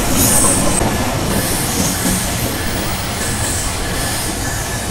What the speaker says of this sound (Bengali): আমাদের ট্রেন চলে আসলো বনলতার শহর নাটোরে